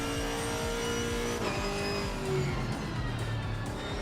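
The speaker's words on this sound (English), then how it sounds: "this car sounds so good" A racing car engine in the sim racing game Assetto Corsa Competizione drones steadily with shifting tonal whine as gears change, a continuous synthetic-sounding motor roar with no talking.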